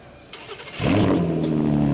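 An HWA EVO sports car engine cranks briefly, then fires and settles into a deep, loud, close idle rumble with a rising rev, heard alone without talk.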